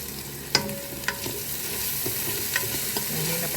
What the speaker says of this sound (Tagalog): Hintayin lang po natin maluto ang ating ginigisa.